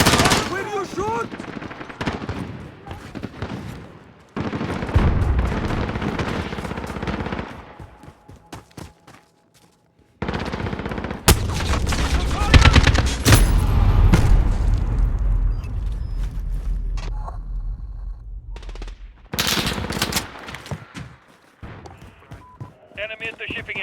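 Bursts of automatic gunfire ring out in a military shooter video game, rapid rattling volleys broken by short pauses and single sharp shots, loud and close, with radio-style voices talking between the bursts.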